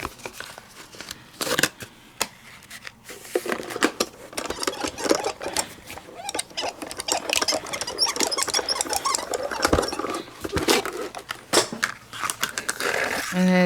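A die-cutting machine rolls Centura pearl paper through for a mermaid die, giving a long run of clicking, ratcheting mechanical crunches with uneven bursts and brief pauses.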